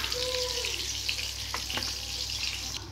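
Apple pitha, a sweet fried cake, frying in hot oil: dense, close, continuous sizzling with a few spoon scrapes and a brief faint tone, without talk.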